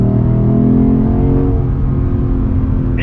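A 2022 Lexus IS 500 under hard acceleration in third gear: a loud, close engine roar with strong rising harmonic tones that climb and then thin out as the revs build.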